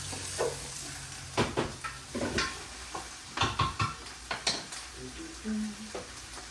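Peppercorns and coriander seeds are sautéed in a pan for Ukrainian borscht, giving a soft sizzle broken by a series of spoon scrapes and knocks against the pan, close up.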